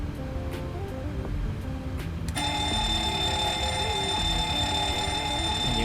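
Cockpit warning alarm test in a PMDG 737 in Microsoft Flight Simulator 2020: a steady electronic alarm tone rings, then a second, higher, continuous bell-like warning joins partway through and holds loudly to the end.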